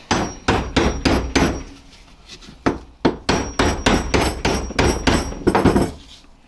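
A hammer taps a metal part during an old restoration job, giving a rapid series of sharp, ringing metallic knocks in uneven bursts, close and loud, with a short pause midway.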